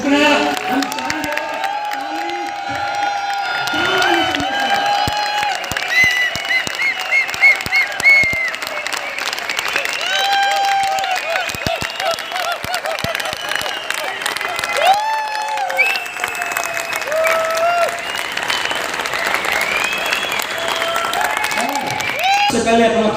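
A large crowd at an academy celebration event in Bhilwara applauds and cheers continuously with loud clapping, scattered whistles and whoops, sustained and dense throughout with voices mixed in.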